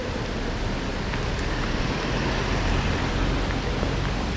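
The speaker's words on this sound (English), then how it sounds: "Oh, it's raining very heavily right now." Heavy rain pours over a street in Greenwich Village, New York City, a steady, dense hiss that fills the whole clip at an even level with no break.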